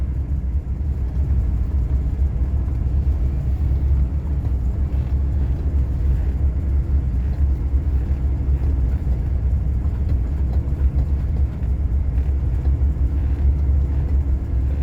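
An old Rolls Royce car engine running on its first drive, a steady low rumble and drone that stays constant throughout with no talking.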